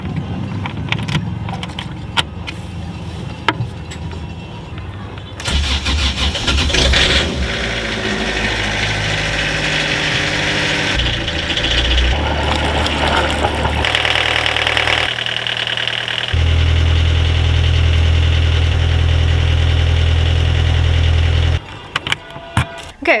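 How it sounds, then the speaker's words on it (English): A Universal diesel engine on a Catalina 30 sailboat cranks and catches, then settles into a loud, steady idle with a deep rhythmic knock before cutting off near the end. "I think the engine was running for like 16 or 17 minutes."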